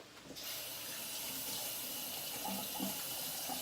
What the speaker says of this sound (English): Give my board a rinse since everything is a little bit there.